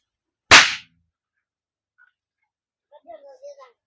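A small bidi bomb firecracker bursts once with a sharp, loud crack that trails off quickly, followed by quiet and then faint distant chirps or voices.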